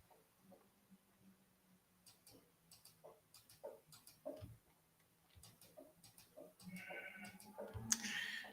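Sheep bleat faintly in Minecraft amid steady ticking game clicks, a few short quiet bleats with a louder burst near the end.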